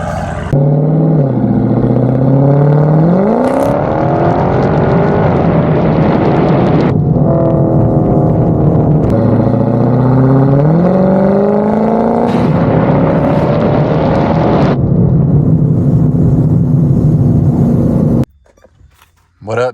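A Dodge Scat Pack fitted with a new, very loud exhaust kit revs hard several times, each rise climbing in pitch before dropping back to a rumbling idle, close and dominant before cutting off abruptly near the end.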